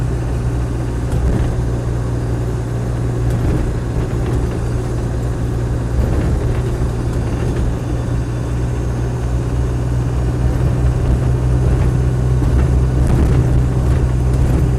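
A Land Rover 90 seven-seater with a 200TDi diesel engine trundling down the road, heard from inside as a loud, steady low engine drone with road rumble and no speech throughout.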